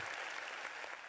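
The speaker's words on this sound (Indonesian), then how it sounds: "tepuk tangan buat Bu Warna." An audience at a stage demonstration of salted egg making claps in a continuous patter of applause, faint and distant.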